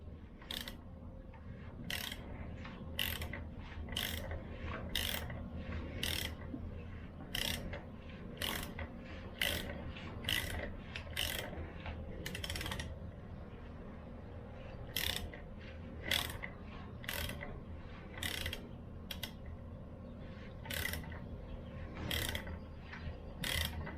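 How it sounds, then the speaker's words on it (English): Ratchet turning over the crank of a BMW M52 engine by hand, a long series of sharp clicking ratchet strokes in uneven bursts with brief pauses, close up over a low mechanical background, no voices. "give this a couple turns, turn it over a couple times just to make sure that the timing's still where it's supposed to be"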